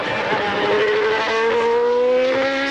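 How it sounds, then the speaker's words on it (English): A Ford V8 Formula One engine heard onboard a 1993 McLaren at the European Grand Prix screams continuously at close range, its pitch climbing steadily through the gears on slick tyres, with no talk. "Let's listen to the engine note, this V8 Ford"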